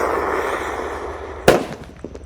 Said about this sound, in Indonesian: Lanjut yang akan kita nyalakan, di sini ada mercon rotator.